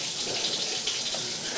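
Steady broadband rush of water flowing through a sewer pipe during a line inspection, loud and continuous with no talk.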